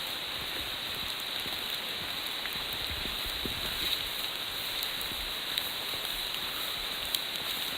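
Rain patters on a poncho during a forest hike on the North Old Mac Trail in Frozen Head State Park, a constant close hiss with occasional sharper drop taps.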